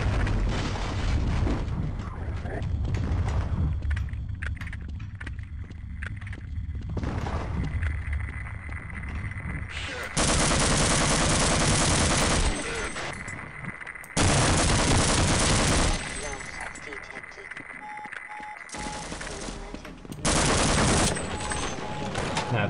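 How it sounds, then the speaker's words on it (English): Enemy gunfire in the video game Half-Life, loud broadband bursts of repeated shots in several separate volleys, with continuous game noise between them and no talk. "the fucking thing behind me is shooting me"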